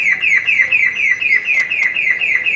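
A loud Maruti Suzuki Wagon R car alarm blares close by, triggered by a faulty remote, a rapid repeating warbling siren tone cycling steadily without pause.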